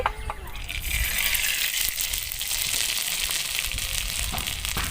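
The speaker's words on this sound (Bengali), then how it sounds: "তো কড়াই দিয়ে দেবো ঘি।" Ghee heating in a kadai, a bright, dense hiss and crackle of hot fat close up, loud and continuous for about five seconds, with no talk.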